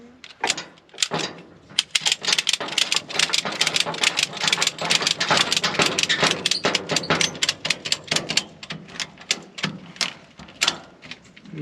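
A Strappino 2-inch retractable ratchet strap is cranked tight, giving a long run of rapid, loud clicking ratchet strokes in uneven bursts, close up, with brief pauses between pulls.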